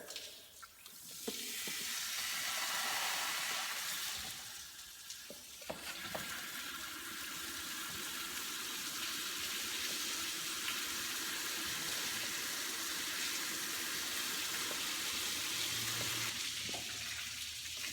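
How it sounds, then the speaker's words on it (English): Running water from a garden hose flushing the cooling system of a Dodge Ram during a radiator replacement, a steady broadband rush and splash that continues unbroken for most of the stretch, close and fairly loud, with no talking. "Attach my water hose there."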